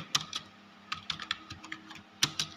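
Keys click on a computer keyboard in short, irregular bursts while text is typed into a word processor, close and quiet with no talking.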